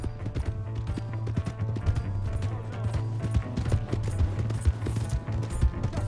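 Rapid clip-clop of horse hooves in the video game Red Dead Redemption 2, with a steady low hum beneath, the hoofbeats galloping on continuously at a close, even loudness.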